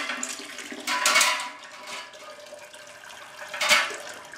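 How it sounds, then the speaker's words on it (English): Water drains and splashes from a brew bag lifted out of a kettle of pond-water beer wort, two louder pouring surges among a steady trickle and drips, heard close with no talking. "And we'll let it drain a couple of minutes so it stops dripping."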